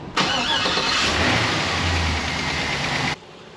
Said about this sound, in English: it was time to put some new slippy stuff in the engine, crank it up, and hope for the best